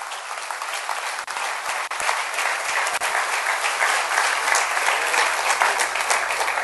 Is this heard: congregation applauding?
yes